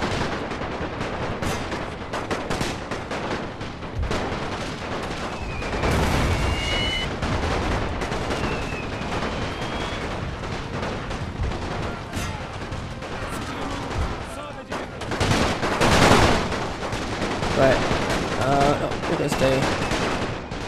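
A World War I video game rattles with near-constant rifle and machine-gun fire, including sharp close shots and heavier bursts, while a player talks over it at times.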